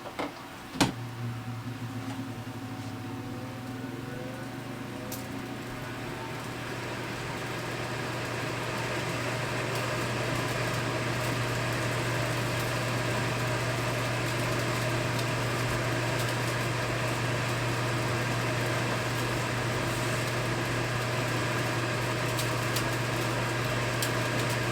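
An M8 exhaust fan pulls air out of a taped-up laser engraver enclosure, a steady close whir with a low hum that begins after a sharp click and holds evenly throughout.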